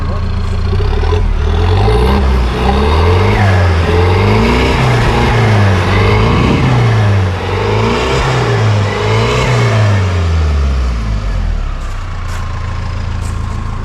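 A Mahindra Thar CRDe with a modified exhaust revs loudly up close, its engine note climbing and falling in repeated waves over a steady idle throughout.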